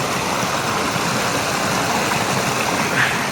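Mountain stream running down beside a road in the Smoky Mountains, a steady, close rush of flowing water with no voices over it.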